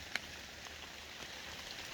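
Steady rain falls through woodland during an Illinois bowhunt, a soft continuous patter with one sharper drop close by near the start, no voices present.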